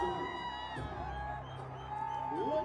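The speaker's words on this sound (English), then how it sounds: "Crowd has loved it." Stadium crowd at a cricket match roars and whoops after a fielding error by Ayaz, with a sustained cheering din and yells rising toward the end.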